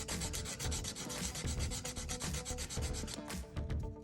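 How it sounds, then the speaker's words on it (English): A small sanding stick scrubs back and forth over a plastic model flat car, a close, steady rasping rub in quick repeated strokes with no pauses. "I'll just use a sanding stick"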